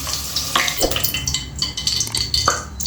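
Stuffed brinjals frying in a pan, with light sizzling and a few scattered utensil clinks and scrapes against the pan over a short stretch.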